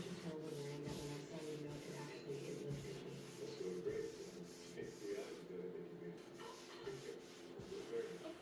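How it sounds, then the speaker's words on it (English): A cloth rubs across a wooden French Provincial dresser to wipe away excess stain, giving soft repeated scrubbing strokes close by in an uneven rhythm, with light knocks between strokes. "Come back with a cloth and wipe up any excess remaining stain, and I make sure to wipe with a direction that the grain flows."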